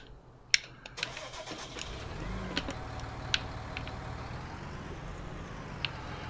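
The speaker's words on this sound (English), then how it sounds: "We're going to get in the tractor and we'll drive down there." Tractor engine in Farming Simulator 19 cranking and catching, then settling into a steady mid-pitched idle with a few sharp clicks and clunks along the way, no talk over it.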